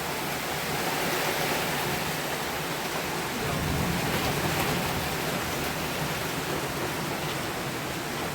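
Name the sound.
heavy rain pouring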